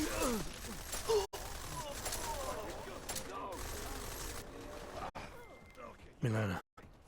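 Gunfire in the video game Deus Ex: Mankind Divided, heard as a dense, continuous rattle of shots across most of the clip with abrupt cut-outs and shifting game noise, interrupted at moments by speech.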